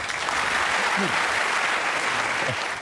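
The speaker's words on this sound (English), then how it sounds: "Round of applause." Studio audience on a TV comedy panel show bursts into steady, full applause, with a voice briefly audible over the clapping.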